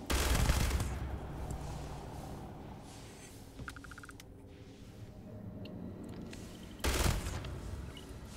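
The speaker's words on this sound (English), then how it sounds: "this gun shoots you backwards in no gravity" A gun firing in zero gravity in Starfield, sharp bursts of gunfire at the start and again near the end, with quieter rumbling and clicks in between.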